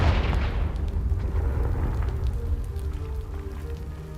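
A Confringo blasting spell detonates in Hogwarts Legacy against a pile blocking a stairwell, giving one loud booming burst that decays into a long rumbling, crackling tail, with no voices.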